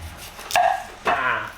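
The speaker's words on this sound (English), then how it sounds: "I'm gonna chop real quick" Two sharp knife chops through onion on a cutting board while making Italian meatballs, close and distinct, spaced about half a second apart.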